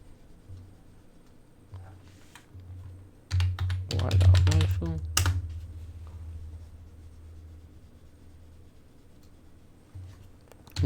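Rapid typing on a computer keyboard during a visual novel development session, a dense burst of close clattering keystrokes in the middle with sparser clicks before and after over a low steady hum.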